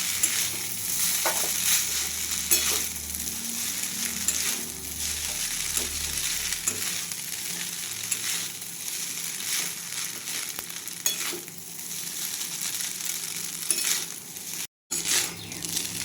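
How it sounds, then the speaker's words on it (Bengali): Egg chowmein with dark soy sauce being stirred in a frying pan, a steady sizzle with scraping and rustling of noodles throughout, close and fairly loud, with no talking. "খুব ভালোভাবে এটি আমি নাড়িয়ে নিই"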